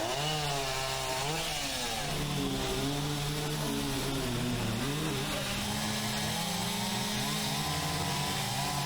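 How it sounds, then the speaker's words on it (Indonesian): A chainsaw roars continuously at close range cutting a fallen tree, its engine pitch wavering up and down as it bites through wood, loud and alone. "Evakuasi pohon dilakukan petugas Sudin Pertamanan dan Hutan Kota Jakarta Pusat menggunakan gergaji mesin"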